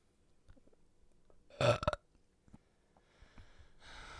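A single loud, gritty burp erupts midway through an otherwise quiet stretch, followed by faint breathy sounds and soft rustling afterward.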